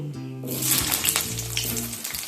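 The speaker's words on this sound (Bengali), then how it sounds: "ফোড়ন ভেজে নেওয়া হয়ে গেলে এর মধ্যে আমি প্রথমে দিয়ে দেব কেটে রাখা আলু" Cut potatoes drop into tempered spices frying in oil, bursting into a loud close sizzle over a low steady hum, with faint stirring.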